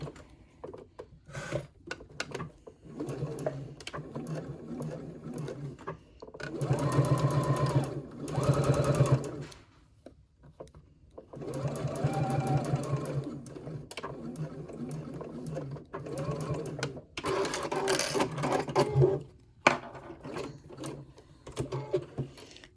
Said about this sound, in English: And you're going to sew those together. 1/4 of an inch seam allowance.